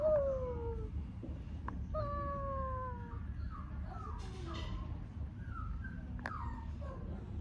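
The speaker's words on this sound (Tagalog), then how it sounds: "Do you want to listen to your cute dog crying?" Thin, high whining cries from a Pomeranian, repeated in drawn-out wavering calls with short pauses, fairly close and otherwise quiet.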